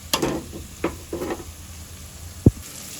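Chicken curry with tomatoes is stirred in a pan, with a faint sizzle under a few spoon clatters against the pan and one sharp knock near the end.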